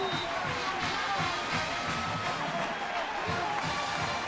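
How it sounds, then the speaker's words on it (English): Oklahoma Sooners football fans in a stadium cheering after a touchdown against Tulsa, a steady distant crowd roar under a commentator's voice. "Sooner fans have reason to cheer early in the third"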